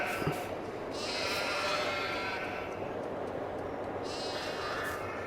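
Several sheep bleat in a video game over a steady background hum, with overlapping calls rising and fading at moderate distance.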